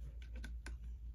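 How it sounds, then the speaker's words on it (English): A few sharp, close mechanical clicks of a solenoid cover on a T1N Sprinter 722.6 transmission being torqued into place, spaced irregularly over a steady low hum. "You can hear clicking."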